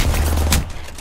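A short burst of gunfire in the shooter game Apex Legends, a loud booming rattle for about half a second followed by fading crackle.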